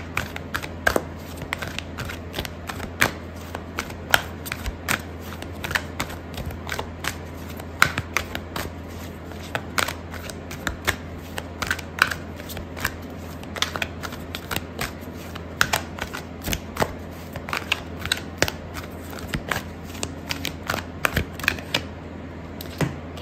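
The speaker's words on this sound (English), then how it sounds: "I'm gonna pull out a card for your advice" Tarot cards shuffled and drawn by hand, a long run of sharp, crisp flicks and taps at an irregular rhythm, close and fairly quiet, with no talking.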